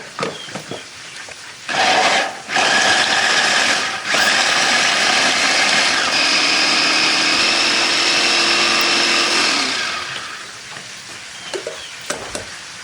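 Food chopper whirring loudly as it grinds red chilies, bird's eye chilies, shallots, garlic, galangal and turmeric, a steady motor drone of about eight seconds with brief pulses before and a quiet tail after, no talk.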